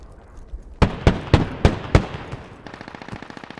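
A rapid series of five sharp gunshots rings out in the video game Squad, evenly spaced and loud, followed by a brief, denser burst of lighter fire.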